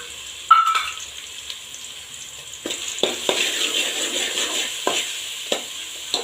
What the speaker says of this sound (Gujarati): પહેલાં થોડું પિંક કલરની ડુંગળી થાય ત્યાર સુધી આને શેકવાનું છે પહેલાં।